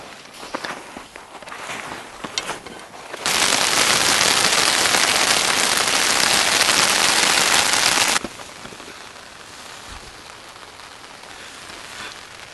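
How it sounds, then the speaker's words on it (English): Steady rain drums hard on a climbers' tent in a loud, dense hiss for about five seconds, then drops to a lighter patter with scattered drips and small rustles before and after. "It's been raining for 3 days now."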